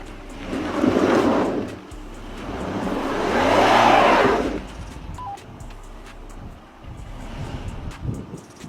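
A Lexus RX SUV with stability control switched off creeps along an off-road trail, its engine swelling and fading in two broad surges amid steady wind buffeting on the microphone.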